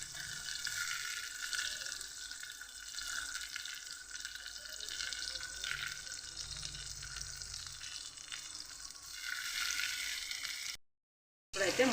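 Onions and chillies sizzle in a pan for a tomato moong dal curry, a steady close frying hiss that runs throughout with a brief dropout near the end.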